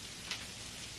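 Steady rainfall hissing evenly across a surface, a dense continuous patter with no talk, heard in a 1976 Sesame Street scene.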